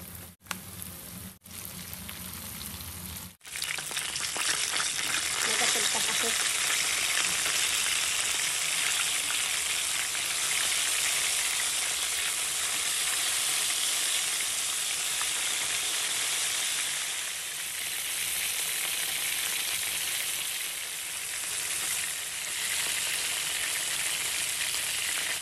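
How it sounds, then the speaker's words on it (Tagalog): Chicken coated in cornstarch fries in hot oil, a dense, loud, rain-like crackle that starts abruptly after a few quiet seconds and holds steady to the end, with no talking. "Tapos, nagpainit na nga rin ako ng mantika at piprituhin lang natin ito lahat."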